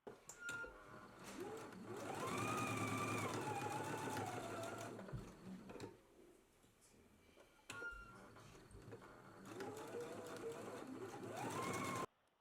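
A sewing machine stitches fabric petals together in two runs of rapid, rhythmic needle chatter, pausing briefly between them, close and clear.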